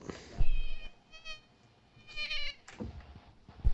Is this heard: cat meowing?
yes